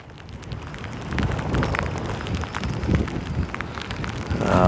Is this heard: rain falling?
yes